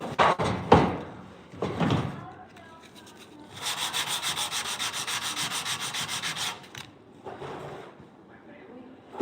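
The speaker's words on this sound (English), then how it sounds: "Am I going to sand it by hand? Absolutely." Hand sanding on the grill shell of a 1968 C10: a steady rhythmic rasp of back-and-forth strokes runs for a few seconds, with brief knocks and handling noises before and after.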